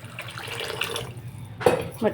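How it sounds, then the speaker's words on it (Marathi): Water splashes into a pot of moth bean (matki) curry being cooked for misal, a short gush near the end following quieter kitchen background. "मटकीचा रस्सा करण्यासाठी पाणी जास्त टाका"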